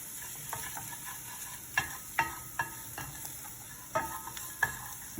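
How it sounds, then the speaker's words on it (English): Garlic in hot oil in a pan over medium heat, frying with a steady sizzle while being stirred, with repeated scraping and clacking of a utensil against the pan, close and fairly quiet. "Get that nice sizzle going on."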